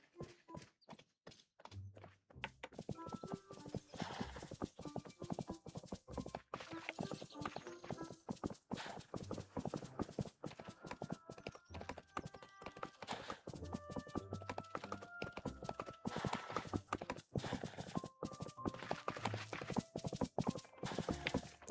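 Rhythmic clip-clop of a horse's hooves as it is ridden along in a video game, steady and fairly close, with a light musical hum and occasional thunks mixed in.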